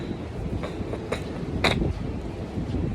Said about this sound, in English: And I think the train is here.